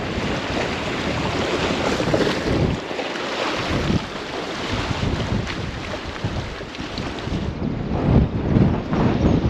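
Strong, cold north wind buffets the microphone in continuous loud gusts at the Scottish isle of Staffa, with a rough roar of air and faint water sounds underneath.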